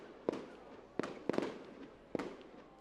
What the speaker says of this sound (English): And there goes fireworks.